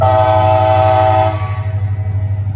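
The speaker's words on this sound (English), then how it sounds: "it's some sort of NS local led by an SD 40-2" Norfolk Southern local freight leaving a yard behind an SD40-2 diesel locomotive, its loud, steady engine rumble close by, with a horn-like tone in the first half that cuts off, leaving the pulsing engine drone working hard.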